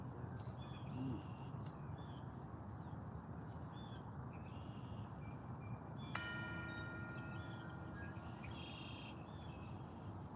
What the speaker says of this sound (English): as I invite the bell to sound, we're all invited, and you're invited, to simply enjoy the sound of the bells in this way.